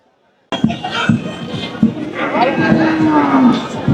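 A heifer moos loudly and long near the listener at a cattle market, over a busy crowd with people talking and scattered shuffling and thumps.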